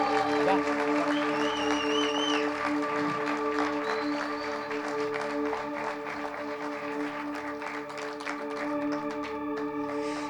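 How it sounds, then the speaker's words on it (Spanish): Applause for a church worship team at a Christmas special service, a steady wash of clapping and cheering layered over sustained music with tonal lines, fairly loud throughout. "denle un aplauso fuerte a nuestro equipo de Movimiento Worship"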